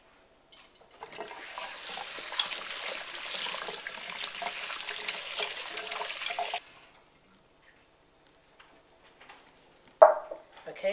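Tap water runs steadily over yam fries for several seconds, a broad close hiss of rinsing that stops abruptly, followed by near silence and a brief clatter at the end.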